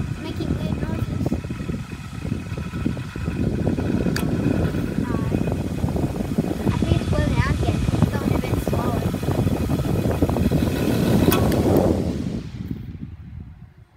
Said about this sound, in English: Is the motor seriously blowing out again? Seriously? It's making weird noises.